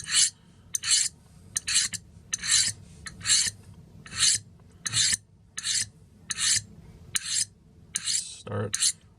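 Blade drawn repeatedly through a Corona tool sharpener, about a dozen bright rasping scrapes in a steady rhythm, each under a second, close and crisp over a faint background hum.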